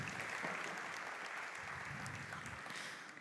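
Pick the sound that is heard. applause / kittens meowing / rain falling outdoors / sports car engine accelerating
applause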